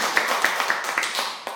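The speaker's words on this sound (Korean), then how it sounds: "박수 한번 쳐주세요." A church congregation claps during an elder's testimony, a moderate round of clapping with several distinct louder claps standing out, under a faint background murmur.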